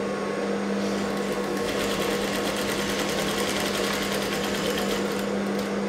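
A sewing machine stitches canvas along a blouse neckline, running as a steady, close mechanical whir with a fast, even needle rhythm and a low motor hum throughout.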